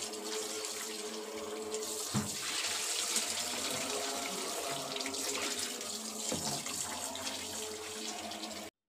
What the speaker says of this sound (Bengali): এগুলো এখন সুন্দর করে ধুয়ে নিব।